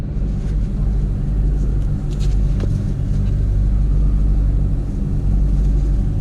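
A stock Toyota Corolla AE71 engine runs with a steady, loud low rumble throughout, close to the microphone and alone, with no talking.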